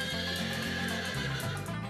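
A horse neighs loudly and close, a long shaky whinny held over a continuous musical backing with no talk.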